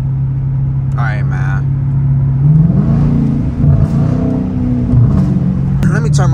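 A Dodge Challenger R/T engine driving through a snowstorm, its loud low drone rising and falling as it revs through downshifts, with a brief burst of higher whine and sliding noise near the start and end.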